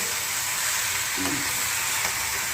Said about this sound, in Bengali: ঢেলে দিয়ে ভালো করে মিক্স করে দেবো, নেড়ে চেড়ে কষিয়ে।